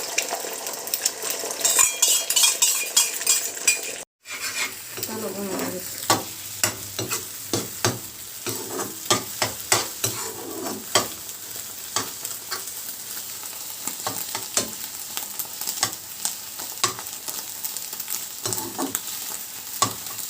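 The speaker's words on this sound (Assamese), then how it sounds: "গৰম হোৱাত ইয়াতে প্ৰথমতে ডিমখিনি দি ডিমখিনি অলপ ভাজি ল'ম।" Beaten eggs frying in a hot pan for egg chowmein give a continuous sizzle with busy, rapid scraping and clinking of a spatula on metal, pausing briefly before the stirring resumes.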